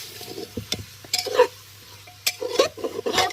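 Mutton being stirred in a pot over a wood fire: irregular scraping and clinking strokes of a spoon against the pot, in short bursts over a faint low sizzle and crackle.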